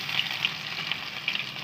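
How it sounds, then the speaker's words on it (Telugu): Tempering spices for a curry crackle and sizzle in hot oil, a steady frying hiss broken by small pops and spits, close and fairly quiet. "మళ్ళీ కర్రీ కోసం పోపు వేసుకోవాలండి."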